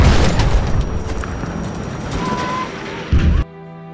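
A V1 rocket explodes in Battlefield V, a loud, rumbling blast with heavy low-end boom and debris noise that swells briefly near the end before cutting to quiet music.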